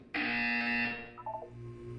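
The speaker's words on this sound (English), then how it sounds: "You will hear a buzzer." A loud, harsh electronic buzzer from the video game Portal 2 blares in one steady blast of about a second, then fades into a few softer, shorter electronic tones.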